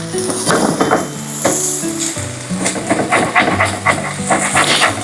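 Filipino corned beef hash sizzles and fries in a non-stick pan while being tossed around, with steady close sizzling broken by repeated scraping and clattering strokes of a utensil against the pan.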